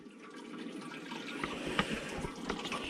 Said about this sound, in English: So the mash is finished now, so that's draining, and while that's draining we'll get the sparge going.